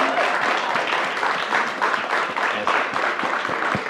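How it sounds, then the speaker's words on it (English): An audience at the closing ceremony of a 2022 SDG solutions event gives a big round of applause, dense steady clapping close by and sustained throughout. "One more big round of applause"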